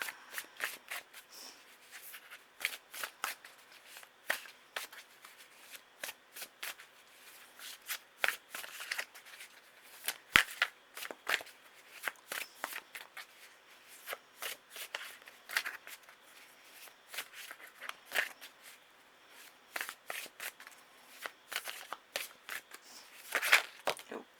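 Tarot cards shuffled by hand, a long run of quick riffling and flicking bursts with brief pauses, close and fairly quiet with no talk.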